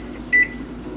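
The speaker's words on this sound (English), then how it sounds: "So we'll set the timer here. Kitchen timer." A kitchen timer gives one short, clear beep as it is set for baking peanut butter and chocolate chip cookies, close by over a steady low room hum.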